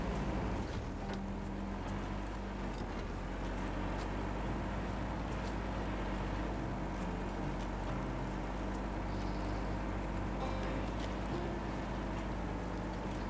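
Heavy truck engine labouring in the MudRunner game (Bear's Tread, East Beskids expedition map), a steady, loud low drone with a dense rumbling hum that holds on without pause, with no talk over it.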